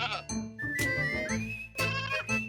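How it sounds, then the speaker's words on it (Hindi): A goat bleats several times in a row, loud and close, with wavering drawn-out cries separated by short breaks. "अरे बहलूल चाचा, आपकी बकरी ने तो कमाल कर दिया"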